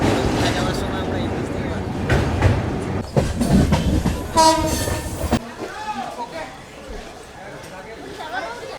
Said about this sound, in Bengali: এইমাত্র আমাদের ট্রেন, ফলকনামা ট্রেন এসে পৌঁছালো হচ্ছে বালাসর রেলওয়ে স্টেশন